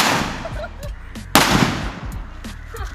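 A homemade cannon loaded with a firecracker fires outdoors: one sharp loud bang stands out among several smaller cracks and pops, with short echoes in between.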